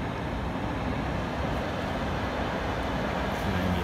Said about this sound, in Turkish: Tren geçti.